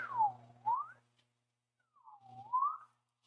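A person whistles an imitation of a slide whistle, two sweeping tones each dipping down then gliding back up, close and alone with a short gap between them.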